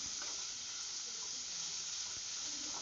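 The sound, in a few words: onions and green chillies sautéing in a pan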